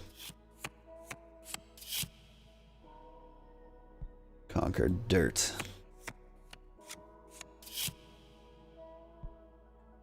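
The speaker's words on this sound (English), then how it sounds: "Think about Idana as I shuffle my deck." A tarot deck shuffled in The Cosmic Wheel Sisterhood: a dense riffling burst in the middle, framed by scattered light card taps and clicks over a soft musical drone, with brief speech nearby.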